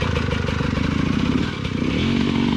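Dirt bike engine chugging and revving on a trail in Mililani, a low, throbbing motor sound with uneven pulses, fairly close, no talking.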